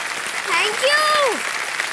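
Studio audience applause on a Hindi-language Kaun Banega Crorepati quiz show, a steady wash of clapping with a whistle-like tone rising and falling over it partway through.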